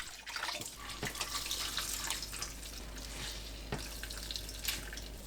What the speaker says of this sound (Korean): 건져내고 찬물에 헹굽니다. 2번 헹군 뒤 물 짜서 준비하세요.